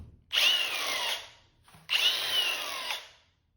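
A Milwaukee 18V cordless angle grinder spins up twice, running a steady high whine for about a second each time before winding down, loud and close with no talking.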